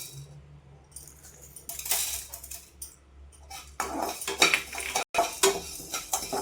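Chana dal dry roasting in a metal pan, a spoon scraping and stirring the lentils in irregular clattering bursts, close and fairly loud, with rattling grains between strokes.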